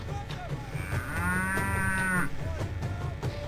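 A cow gives one long, loud lowing moo on a farm in Burundi, close and sustained, over steady background noise and faint distant animal sounds.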